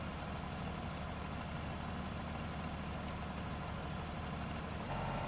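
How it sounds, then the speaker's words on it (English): Combine harvester engine in Farming Simulator 19 holds a steady, close low rumble, its pitch and load shifting slightly near the end as the machine goes back to work. "you can hear the combine's engine shift"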